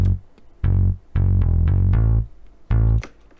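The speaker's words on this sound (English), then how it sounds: "for this bass I have done some equalizing and I have added some distortion" A distorted, equalized bass plays a few sustained, buzzy notes with short gaps between them, loud and alone in a piano-and-bass mix.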